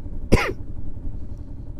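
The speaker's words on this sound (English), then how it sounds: "I'm going to cough now" One short, sharp cough, close to the microphone, over a low steady rumble.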